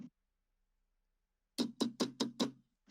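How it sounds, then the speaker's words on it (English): Five heavy pounding knocks land on a door in quick succession after a short silence, loud and close, each a dull thud with a sharp attack. "there's this pounding on the door"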